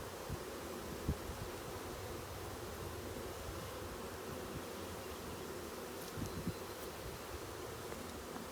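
Steady dense buzzing of many honeybees close by during hive handling, a constant drone with faint rustling and occasional soft bumps, no voices.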